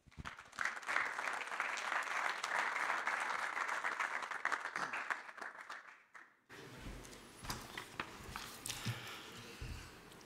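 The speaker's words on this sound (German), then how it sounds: "Gerne einen Applaus von Ihnen." Conference audience at a German hunting association forum on forests and wildlife applauds to welcome Dr. Volker Böning, a steady, moderately distant clapping for about six seconds that stops abruptly, followed by quiet room noise and faint movement.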